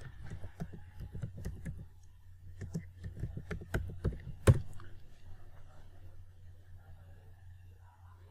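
Keys on a computer keyboard clatter in quick bursts of short taps, close and fairly quiet over a low hum, with one sharper click and then a stretch of near silence.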